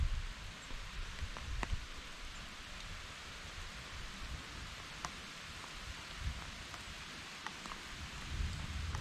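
Steady rain falls on a mountain hiking trail with a soft, continuous hiss, and a few sharper drips and taps come through at moderate distance. Nobody speaks.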